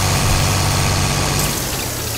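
A Sonalika 60 DI tractor in Farming Simulator 22 hauls a big sugarcane trolley at full speed in gear, its engine a steady, dense drone that eases slightly toward the end, with no voices.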